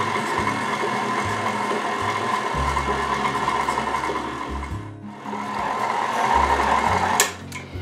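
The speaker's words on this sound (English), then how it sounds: "We're just going to mix that till it's well blended together." An electric mixer blends powdered sugar on low speed for salted nut bars. Its motor hums steadily with a mechanical whir whose pitch and strength shift slightly, then it briefly dips and resumes before a clatter near the end.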